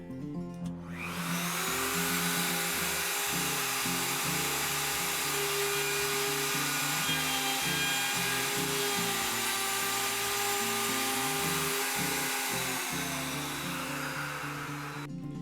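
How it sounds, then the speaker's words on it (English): A power router cuts door hinge recesses guided by a hinge template, a loud steady high-pitched whine running continuously for about fifteen seconds with slight shifts in pitch as the bit moves through the wood. "So we're going to go ahead and get the router ready"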